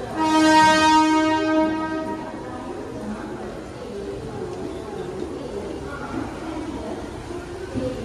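At Panvel railway station a Harbour line local train sounds a loud, sustained horn blast. The horn fades into a continuous rumble and rattle of the train on the tracks.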